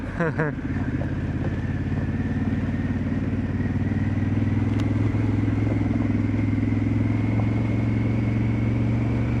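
A motorcycle works its way up a brushy dirt trail, its engine holding a loud, steady drone the whole time with no clear revving or shifting.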